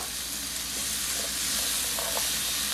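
Shrimp saute in a hot pan for chickpea croquettes, giving a constant, even sizzle with faint crackles close by and no voices.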